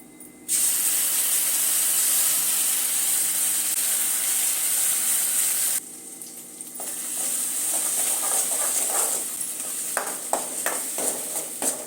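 Ground masala hits hot oil in a pan for a mutton gravy, a sudden loud sizzling hiss that cuts out, then returns with scraping stirs and spitting crackles, no speech.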